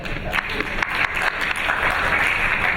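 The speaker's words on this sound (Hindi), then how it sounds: "मैं आपके लिए तालियां बजा देता हूं सर।" Applause breaks out at a national conference session on GST valuation, a dense, steady patter of many hands clapping at once, filling the room at close range with little else over it.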